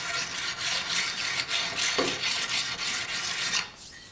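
An axe edge being restored is sharpened on 150, 300 and 450 grit stones, with close, steady rasping strokes that scrape back and forth in a continuous rhythm until they fade near the end.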